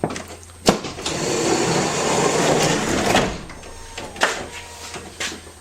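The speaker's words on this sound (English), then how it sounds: "And the door shuts." A 2005 Toyota Sienna minivan's sliding door rumbles along its track for a couple of seconds, then clunks shut, with a few sharp knocks before and after.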